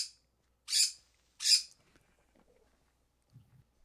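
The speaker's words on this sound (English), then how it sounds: "The bird's getting excited for the victory run." A bird in a video game gives two sharp, bright chirps in quick succession, followed by faint, sparse noises and near silence.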